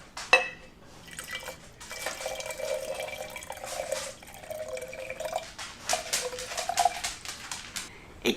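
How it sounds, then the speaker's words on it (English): Water poured into a jar of soil, a quiet continuous trickle and gurgle with dripping splashes and a few small glassy clinks, close by and without talk. "let's pour the same amount of water into this jar and see where it goes"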